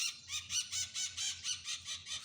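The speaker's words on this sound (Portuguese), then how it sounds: "Os periquitos fazendo farra aqui." Parakeets chatter on a farm in the interior of Goiás, a rapid run of bright, shrill calls pulsing in quick regular bursts, close and fairly loud with no talk.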